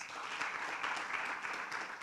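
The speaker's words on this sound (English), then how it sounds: "Another round of applause for our panelists." An audience at a suppliers forum claps for the panelists in a brief, even round of applause, many hands together, heard at a moderate distance with no voices over it.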